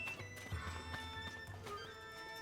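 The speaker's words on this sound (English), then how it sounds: "Come on, horse." A horse in the video game Zelda: Tears of the Kingdom neighs loudly and close, with clip-clopping hooves and steady game music underneath.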